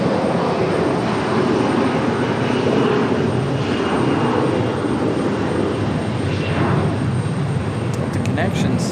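A CRJ regional jet at Raleigh-Durham International Airport gives a loud, steady broadband roar throughout, with a voice talking underneath.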